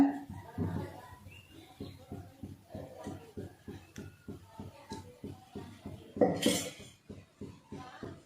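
A kadai pan is set down and handled in a home kitchen while chicken curry is started, giving a steady run of soft metallic knocks and clinks with a brighter clatter near the end.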